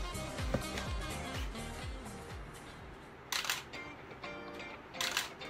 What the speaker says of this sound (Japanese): シャッター切れます